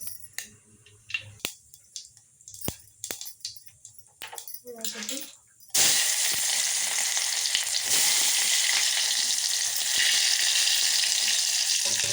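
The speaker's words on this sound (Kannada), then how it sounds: "ಈಗ ಎಣ್ಣೆ ಕಾದತ್ರಿ ಜೀರಿಗೆ ಸಾಸಿವೆ ಚಟಪಟ ಸಿಡಿಯಲ್ಲಿ" Cumin and mustard seeds hit hot oil, followed by a loud, continuous crackling sizzle of popping seeds that runs for about six seconds after some earlier clicks and handling sounds.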